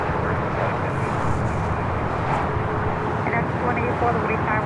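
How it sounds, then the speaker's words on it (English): A United Boeing 737 MAX 8 airliner approaching to land at Newark airport in snowy winter conditions, a steady broad roar of jet engine noise that holds throughout without breaks, with no talk over it. "And we have another 737, a MAX 8 approaching."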